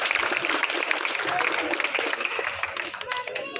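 Loud applause from an audience for a young girl, dense continuous clapping with a few voices mixed in, holding steady for the whole span.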